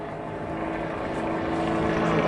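A Grob 115E Tutor propeller plane flies overhead at an air show, its steady engine drone growing gradually louder as it approaches.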